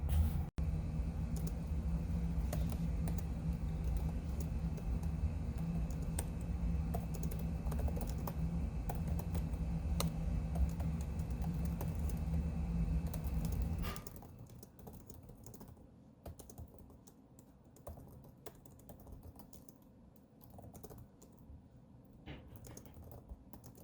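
Steady fast typing on a computer keyboard during a long writing session, close and continuous for about fourteen seconds, then stopping, leaving only quiet room noise.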